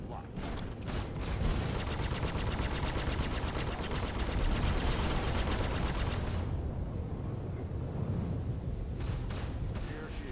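Rapid automatic gunfire rattles continuously against ship shields in the Star Citizen space combat game, dense and loud over a rumbling engine drone, breaking off briefly before a few more bursts.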